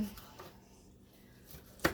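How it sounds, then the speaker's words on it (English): Knife chopping salad vegetables on a cutting board, one sharp close knock near the end after a stretch of quiet low room noise. "Just chopping it up, just like this."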